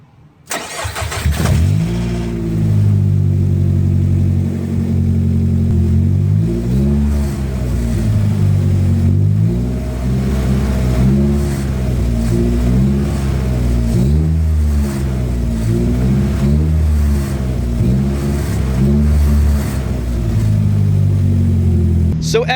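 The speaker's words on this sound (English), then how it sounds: "the flex pipe on the downpipe is currently rattling" A Nissan Sentra with a McCann Racing downpipe and a rattling flex pipe starts up, then idles and revs repeatedly with a loud, raspy exhaust note and a metallic buzz, close to the microphone.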